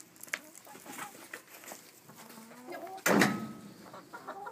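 Backyard hen clucking in short, soft bursts close by, with a louder, sharper squawk partway through and faint voices in the background.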